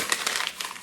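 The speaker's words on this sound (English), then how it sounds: "Squeeze and crumple it and put it inside." Scrap paper being squeezed and crumpled into a ball, a short burst of close crinkling and crushing crackles with no talk.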